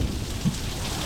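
A thunderstorm in Needles, California, pours heavy rain in a steady, dense hiss, with a low rumble of thunder underneath; no voices.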